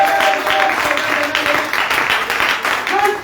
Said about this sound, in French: Donnez une acclamation au Seigneur ce matin.